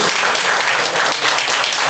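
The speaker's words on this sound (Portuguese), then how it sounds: "Vamos aplaudir ao Senhor?" Church congregation applauding in praise, a dense, loud wash of steady clapping close up, uninterrupted for the whole moment.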